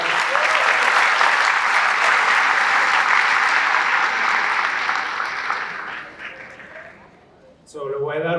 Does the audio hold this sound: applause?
yes